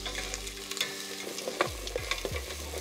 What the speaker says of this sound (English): And let's get some onions sauteing in the pans.